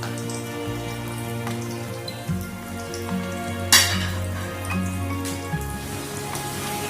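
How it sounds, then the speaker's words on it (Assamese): Potato French fries frying in oil in a home kitchen, a continuous hiss and bubble with scattered pops and one sharp crackle burst, alone with no talk. "আগৰখিনি যেনেকে ভাজিছিলো প্ৰথমতে হাই ফ্লেমত, তাৰপিছত ল' কৰি তেনেকে ভাজি ল'ম"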